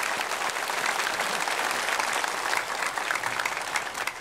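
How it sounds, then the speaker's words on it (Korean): Dense, steady applause from a large church congregation, continuous clapping filling the room at an even loud level throughout. "우리 농인들 박수를 한번 이뤄합시다"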